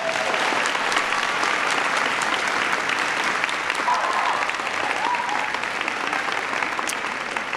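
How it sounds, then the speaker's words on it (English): An audience at an education event in Maryland gives a big round of applause, a thick, even wash of clapping that holds steady throughout. "Give him a big round of applause."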